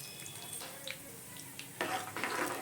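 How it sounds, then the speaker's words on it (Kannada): Ingredients for lemon rice (chitranna) fry in oil in a pan. A quiet hiss runs underneath, with faint clinks of a spoon stirring, and the sizzle swells louder toward the end. "ಫ್ರೈ ಮಾಡ್ಕೊಳ್ಳೋಣ ಆಯಿಲಲ್ಲಿ."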